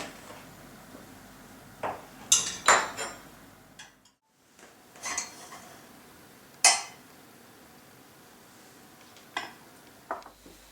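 Warm mince pies are knocked out of a baking tin onto a wire rack, giving a handful of sharp metallic clinks and taps spaced irregularly, with a short silent gap midway, fairly quiet and close.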